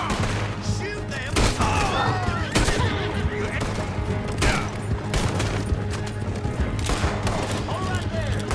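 Dense volleys of gunfire while shooting at enemies in the game The Free Peace, with repeated sharp cracks and bangs packed tightly together, loud and close, with voices talking over parts of it.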